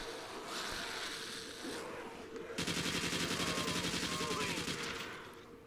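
Rapid automatic AK-74U fire in a custom zombies video game, with fast repeated bursts, then a sustained stream of shots after a short pause. A voice talks over part of it.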